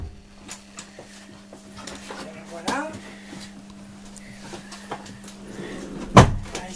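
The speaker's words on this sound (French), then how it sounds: "On referme les tiroirs." Library drawers in a media library pushed shut, a sharp knock near the end after faint rustling, with a steady low hum underneath.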